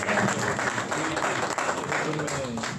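An audience at a talk applauds in a continuous, fairly loud wash of clapping hands, even and unbroken throughout, with faint murmuring beneath.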